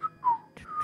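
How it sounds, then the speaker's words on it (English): Someone whistles a short, lilting tune up close, a few bright notes sliding between pitches in under a second. "Could you imagine just whistling?"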